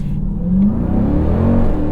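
A 2025 Dodge Durango SRT Hellcat V8 accelerates hard, a loud, close, rising engine roar heard from inside the SUV, steady and unbroken with no talking.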